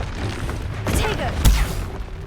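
A Tego protective spell cast in Hogwarts Legacy: two short magical bursts land close together, each with a sharp crackling flare and a deep thudding boom underneath, over a low steady background.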